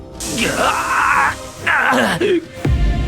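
A man cries out in agony in a harsh, drawn-out voiced scream, with a second rising cry after a short break. He has been splashed with sulfuric acid during a brutal fight.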